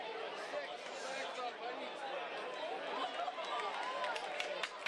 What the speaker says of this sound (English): The crowd reacts as the HarbourCats ball boy beats the Falcons ball boy